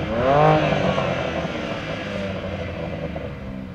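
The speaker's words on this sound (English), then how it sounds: "This ain't going into launch control for some reason, so I'm just going to brake boost it" A BMW M car engine, 650 bhp M140i, 590 bhp M2 or 580 bhp M3, roars loudly and steadily while held on the brake for a boosted launch, with a brief rising rev at the start.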